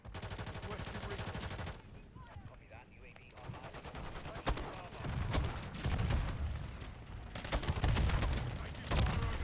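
Repeated gunfire in a Lethal Company match comes in loud bursts and rapid volleys, nearly continuous over the whole stretch, with a voice talking underneath.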